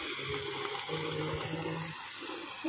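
Water from the Eco Park falls in Shillong pours down a hillside in a steady, continuous rush, filling the air at moderate distance with no voices over it.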